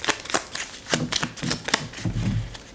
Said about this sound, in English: we're going to shuffle our decks over here